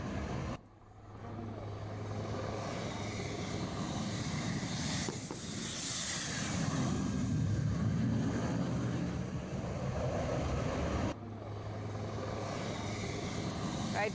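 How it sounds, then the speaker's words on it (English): A Mirage fighter jet descends to skim the Yamuna Expressway road surface in a test touch-and-go, its loud engine roar building and sweeping past overhead before climbing away, heard continuously throughout. "There you can see the fighter jet coming down and skimming the surface of the road there of that Yamuna Expressway before taking off again."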